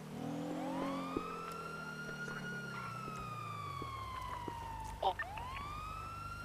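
Police car sirens in a video game wail in long, sweeping tones that rise and fall, fairly faint and continuous, with a brief clatter near the end and an engine drone underneath.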